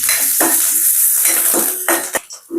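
Onion, mustard seeds, fennel and curry leaves sauté in a pan with loud, busy sizzling, punctuated by repeated scrapes and clinks of a spoon stirring against the metal.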